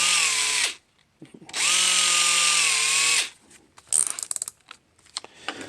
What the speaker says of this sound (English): I drill it from here so I can, make sure I'm actually getting it in the right place